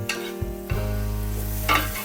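Shallot, coriander and mint paste sizzles steadily in a hot pan, close and continuous, with a few scrapes and stirs of a spoon at the start and end.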